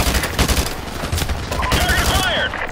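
Chopper gunner gunfire in Call of Duty Modern Warfare Remastered, rapid bursts of heavy automatic fire mixed with game effects, loud and close while a voice talks over it.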